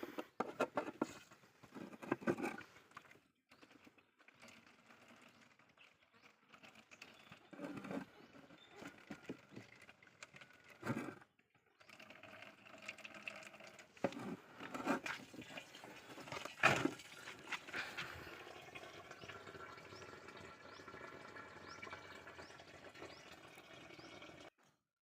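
Water poured over dung and soil in a container, a soft patter and splash of filling liquid that starts and stops in bursts, then becomes a steadier trickle, with no talking.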